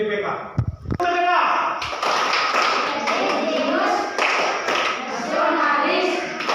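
A school class claps out the PPK chant in rhythmic bursts of sharp, close hand claps, with children's voices and a teacher chanting over the claps throughout.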